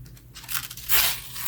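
A crunchy page in a photobook crinkles and crackles with a short, soft burst that peaks sharply and then fades, heard up close and alone.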